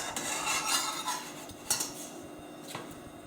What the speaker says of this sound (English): Turn it over so it can start to cook through on the other side.